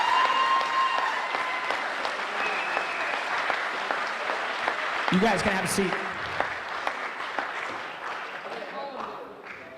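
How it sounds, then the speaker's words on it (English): Sustained applause from a banquet audience honoring a senior high school football class, a dense steady clatter of clapping that tapers off as a voice speaks over it. "Let's give them a round of applause."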